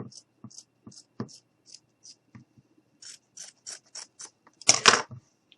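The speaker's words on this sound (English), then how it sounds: "I'm gonna go ahead and cut this right up the middle" Scissors snipping through material up the middle while making a mummy gnome craft, a string of short crisp cuts at close range, with a louder burst of rustling near the end.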